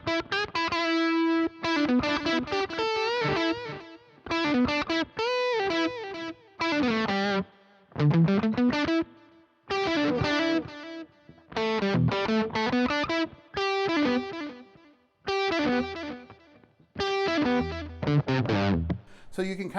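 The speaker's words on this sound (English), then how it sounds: "let me put some distortion on with that." An electric guitar plays through a Boss ME-90 multi-effects pedal with distortion and delay, loud phrases of sustained, harmonically rich notes separated by brief pauses.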